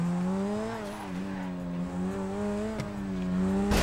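A Grotti Turismo R sports car in GTA 5 hums steadily at cruising revs. Its engine note holds an even pitch with small rises and dips, and a brief tyre chirp cuts in near the end. It sounds moderately close and plays alone.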